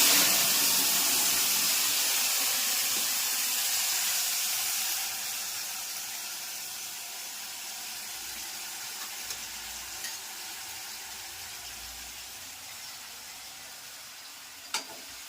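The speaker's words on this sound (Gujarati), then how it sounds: "અને હરગવાનો વઘાર." Drumstick tempering with mustard seeds, cumin and fenugreek powder crackles in hot oil with a loud, close, continuous sizzle. The sizzle eases slightly partway through, with a few sharp pops near the end and no talking.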